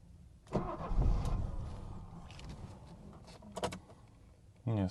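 A cold car engine is cranked with throttle and stalls right away, a burst of starter and engine noise that dies out, followed by a short mechanical whir like a power window or door mechanism, with some people talking nearby.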